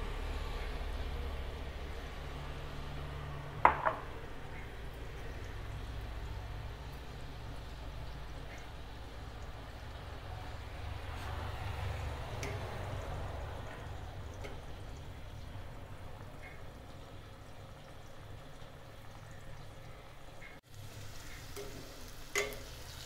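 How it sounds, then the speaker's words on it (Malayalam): Food fries in hot oil with a faint, even sizzling hiss that runs throughout. Occasional soft pops and clicks break through at a distance. "എണ്ണ ചൂടായി വന്നിട്ടുണ്ട്. നമുക്ക് ഇതിട്ട് ഫ്രൈ ചെയ്തെടുക്കണം."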